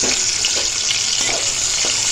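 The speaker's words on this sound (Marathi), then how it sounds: "आणि याच्यामध्ये थोडं पाणी।" Water is poured into a hot cooking pan holding drumsticks with salt and turmeric, giving a steady hissing, bubbling splash with faint sizzle, close and continuous without speech.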